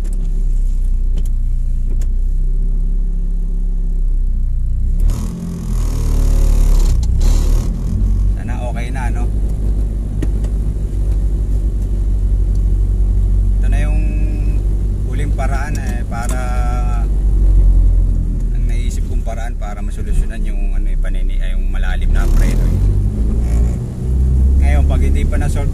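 Mitsubishi Mirage on a test drive after brake booster work, with a steady low engine and road rumble throughout and people talking over it at times.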